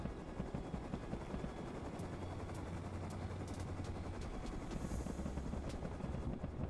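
A helicopter roars continuously in the video game Rust while bursts of gunfire crack over the dense, steady din of rotor and engine noise.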